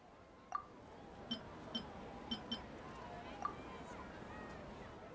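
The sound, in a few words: beep from the Akasha in Genshin Impact video game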